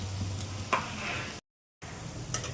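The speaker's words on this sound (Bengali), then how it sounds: "সবগুলি দেওয়া হয়ে গেছে, এবার আস্তে আস্তে ভাজতে থাকবে।" Karkal pur fritters frying slowly in a pan for homemade Bengali food, giving a soft, steady sizzle close by. The sound cuts out briefly in the middle and there is no talk.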